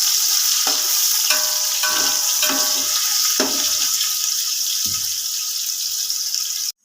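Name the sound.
frying in ghee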